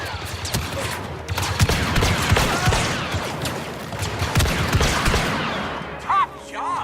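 Dense gunfire fills a Star Wars Battlefront 2 battle, with rapid overlapping blaster shots and bursts, loud and close, continuing almost without pause before a brief high electronic whine near the end.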